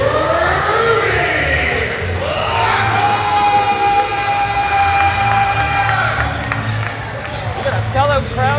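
A sellout wrestling crowd at a Superstars of Wrestling event in Port City roars and cheers loudly throughout, with whoops and shouts rising and falling across the arena while an announcer's voice speaks over the din.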